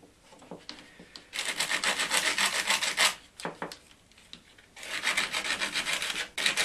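Rusty contacts on a battery charger are scrubbed clean in two long bursts of close, rasping friction, separated by a few shorter scratchy strokes.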